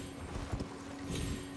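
Torrent, the spectral steed in the Elden Ring open world, gallops with steady clip-clop hoofbeats at moderate loudness, two heavier thumps standing out against a continuous game ambience.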